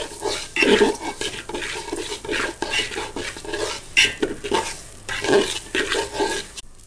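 Chicken biryani is stirred in a pot with a utensil, giving repeated close scraping and shuffling strokes in an uneven rhythm over a soft background sizzle, with occasional metallic clinks against the pot.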